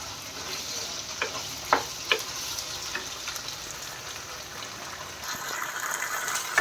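Tomato sauce poured over onions and chilli sizzling in a pan for hotel-style chilli paneer, with a steady fry hiss and a few sharp scraping stirs of a spoon, close and alone.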